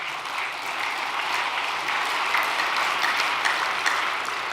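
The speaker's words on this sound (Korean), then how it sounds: "어머님을 위해 우리 간절한 정성의 박수를 보내주시기 바랍니다" Audience applause at a Korean overnight devotional prayer gathering, a steady wash of many hands clapping at a constant level throughout, dense and fairly close, with no speech over it.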